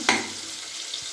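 Green chilies drop into hot oil in a kadai while fish is being cooked, giving a sharp burst of sizzling that settles into a steady, moderate frying hiss with no talk.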